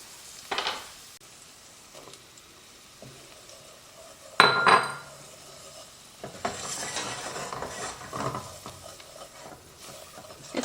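Minced onion and garlic cook in melted butter in a pot, with soft sizzling, scraping stirs and occasional clinks of a utensil against the pan, close and fairly quiet.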